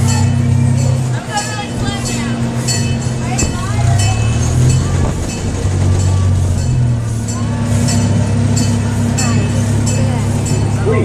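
A miniature train ride runs on rails with a steady low rumble and rhythmic clacking, along with a constant hum, faint squeals and chatter from riders nearby.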